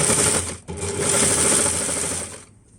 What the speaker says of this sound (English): I'm actually just going to serge all the way through